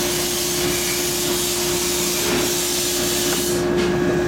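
Sand bead blaster machine running with fine media, giving a steady loud hiss and roar with a constant hum underneath and no breaks.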